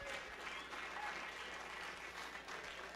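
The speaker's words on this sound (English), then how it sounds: "So we'd really like to give them a big round of applause" A graduation crowd gives a round of applause at the 2010 SOS Eagle County University ceremony, a soft, somewhat distant patter of many hands that stays steady and unbroken throughout.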